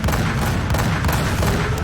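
Continuous spaceship gunfire in the space-combat game Rebel Galaxy Outlaw, a dense loud wash of rapid shots and booming impacts that fills the whole moment with no pauses.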